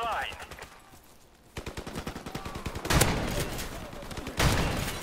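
Bursts of automatic gunfire in Call of Duty: Modern Warfare Remastered crack out in rapid rhythmic volleys, with louder blasts building toward the end of a busy in-game firefight.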